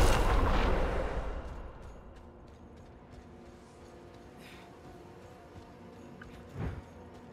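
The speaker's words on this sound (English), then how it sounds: "Too many explosions." Explosions in the video game Diablo IV, a heavy booming blast up front that rumbles and decays, followed by quieter clanks and a smaller burst near the end.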